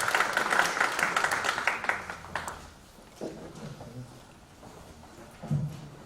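Audience applause welcoming the speakers at a Korean church mission policy forum, a dense burst of clapping for the first couple of seconds that fades into quiet room noise and faint talk.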